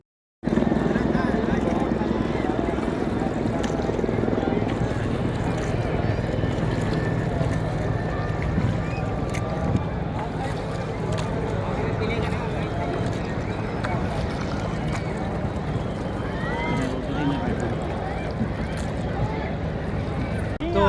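Steady boat engine drone and water rush on a half-hour ride to Triveni Sangam at Prayagraj during the 2025 Kumbh Mela, loud and continuous throughout with no talk.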